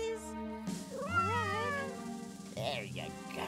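A kitty gives a drawn-out, wavering meow followed by a shorter one, heard close over a steady tonal background.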